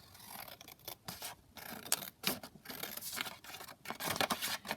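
Scissors snip through paper for a junk journal, a close run of short dry cuts and rustles, quiet and uneven, with no one talking.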